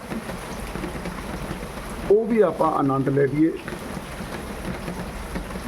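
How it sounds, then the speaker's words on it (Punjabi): Steady rain falls all around in a continuous hiss, with someone speaking briefly over it in the middle. "ਲਗਾਤਾਰ ਹਰ ਜਗ੍ਹਾ ਬਰਸਾਤ ਚੱਲ ਰਹੀ ਹੈ"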